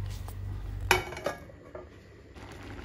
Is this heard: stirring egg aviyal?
yes